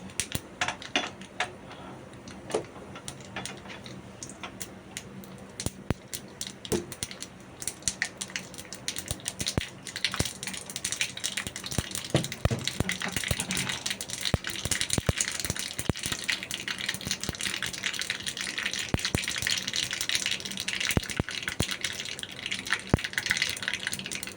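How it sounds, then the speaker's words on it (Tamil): Mustard seeds hit hot oil for tempering in a Kerala morkootan, giving a faint steady sizzle scattered with rapid sharp pops and crackles that grow denser over time, with no speech. "கடுகு போட்டுக்கோங்க"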